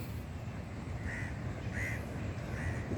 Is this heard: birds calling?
yes